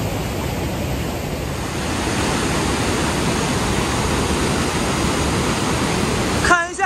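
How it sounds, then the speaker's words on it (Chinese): Rhine Falls waterfall in Switzerland, seen from the right-side viewing platform: a loud, steady, broadband roar of rushing water filling the whole stretch, with a brief voice right at the end. "看一下这个莱茵瀑布"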